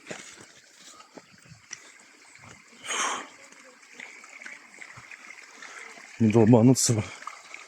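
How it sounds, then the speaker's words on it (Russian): A mountain river flows steadily as a low, continuous rush of water in the background, with people talking over it and a louder burst of noise near the end. "Такая вот речка горная."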